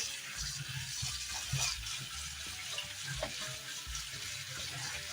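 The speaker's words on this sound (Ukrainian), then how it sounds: "Небагато насипаю в душлачок і мию під проточною водою." Steady rush of running tap water over a colander of cherries being rinsed, with faint clinks and light splashing throughout.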